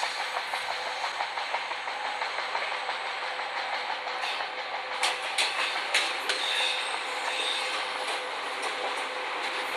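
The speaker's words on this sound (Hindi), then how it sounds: "सामने के साइड से कोई ट्रेन यहाँ पे जो क्रॉस हो रहा है अभी" Inside the cab of a locomotive hauling the CSMT–Lucknow Pushpak Express with LHB coaches, a passing train crosses on the next track. It makes a steady loud rumble with rhythmic clattering and faint squeals, and no one speaks.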